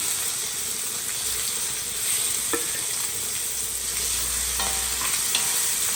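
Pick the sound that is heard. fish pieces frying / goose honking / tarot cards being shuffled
fish pieces frying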